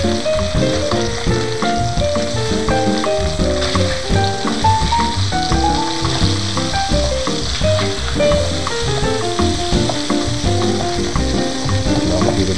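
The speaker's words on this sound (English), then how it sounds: "I'll add the garlic in here, fry up the garlic a little bit." Garlic sizzles steadily in a hot pan alongside seasoned salmon, a continuous close crackle of frying with occasional stirring clinks, no voices over it.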